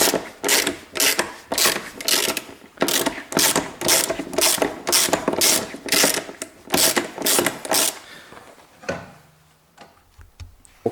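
Ratchet wrench loosening a stubborn bolt on a Toyota Corolla windshield wiper motor, a close, loud run of rhythmic clicking strokes for about eight seconds before it stops and goes quiet.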